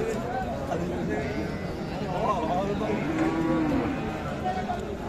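A cow moos a couple of times amid a noisy crowd talking at a cattle market, the lowing rising and falling under the chatter.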